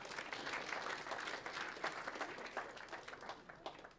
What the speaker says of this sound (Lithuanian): Jūsų plojimai